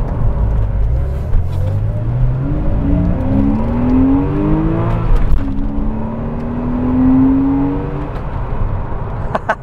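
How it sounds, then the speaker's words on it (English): A late-1990s Porsche with a flat-six engine wails as it is driven, its revs climbing through the gears in rising sweeps with a brief dip at a shift, loud and close with no voices. "I love that flat six wail."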